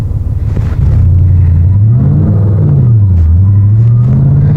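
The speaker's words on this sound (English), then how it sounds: "See, that was a gentle launch." A powerful car pulls away gently from a standstill, its deep engine note swelling from idle into a smooth rising and falling rev, loud and close throughout.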